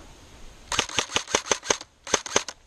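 Airsoft guns fire in rapid, sharp snaps during an outdoor field exercise: a run of about six close shots, a short pause, then another quick burst of four, with no talk over them.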